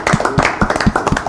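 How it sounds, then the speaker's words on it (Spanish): Audience applause at a Spanish-language broadcast special, a burst of brisk, uneven hand claps repeating close and clear for the whole moment, with no voices. "Reciban mis aplausos."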